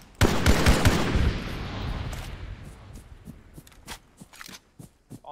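Gunfire in a military video game, a rapid automatic burst up close at first that fades into scattered shots and distant rattling fire, with a few sharp single cracks later.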